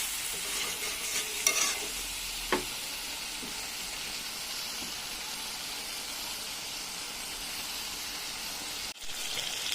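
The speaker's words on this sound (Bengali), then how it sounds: "কিছুক্ষণ ধরে মাংসটা কষিয়ে নিয়েছি" Marinated meat with spices is stirred and sautéed in a pan, making a continuous close sizzle and hiss with occasional scraping and clinking of the spoon. Nobody speaks.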